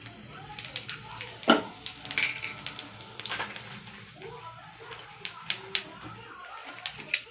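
Cumin seeds hit hot oil for tempering, giving sharp, scattered crackles and pops over a faint sizzle. Some louder spits burst out near the start and the end.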